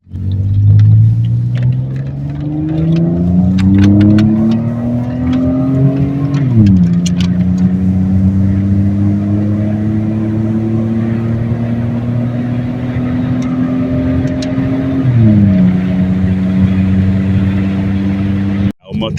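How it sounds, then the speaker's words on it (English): A 1996 Ford Taurus wagon engine with no muffler rumbles loudly and unevenly from a misfire, its pitch rising twice with revving and dropping back, while people talk over it. "The misfire and the odd fire makes this, and the lack of a muffler as well"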